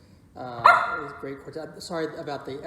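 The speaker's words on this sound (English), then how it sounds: "This is our dog." A pet dog barks and yips a few times close by, the sharp calls mixed in with someone talking at a small classical music concert gathering.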